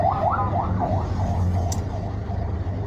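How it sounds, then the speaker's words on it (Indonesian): An ambulance siren wails in a fast, repeating warble as the vehicle speeds past on a road, steady and fairly loud over low traffic rumble, with no talking. "Oh, ada ambulan lewat,"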